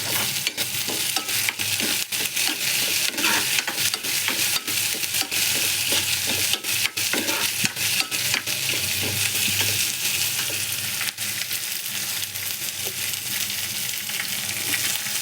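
Green chillies fry in a hot pan with a steady, dense sizzle and crackle, marked by frequent sharp pops throughout and no talking.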